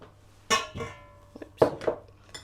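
A spoon clanks against a bowl while stirring salt into flour for a traditional Christmas cake, a few sharp metallic knocks spaced irregularly over quiet background.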